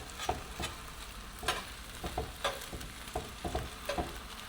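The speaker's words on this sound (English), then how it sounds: "we're going to stir all of this in, kind of thoroughly mix it together" Fried rice with sesame oil is stirred in a hot pan over medium heat, making repeated scraping strokes in an uneven rhythm over a steady low sizzle, close and fairly quiet, with no talking.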